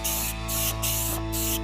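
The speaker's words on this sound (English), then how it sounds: "So I can fog this down a little more along the front" Spray gun fogging paint onto a car's front end, soft airy hiss pulsing in short passes over a steady low hum, close and fairly quiet.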